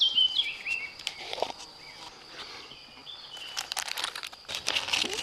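A small geocache box is handled and opened outdoors in a forest, giving crinkly plastic rustling and rattling with a few sharp clicks, close and intermittent, with a faint high insect-like tone in the background.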